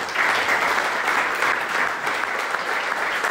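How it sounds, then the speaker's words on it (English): An audience at a lunch-and-learn talk breaks into applause, dense steady clapping from many hands sustained throughout at close range. "Can we give them a round of applause?"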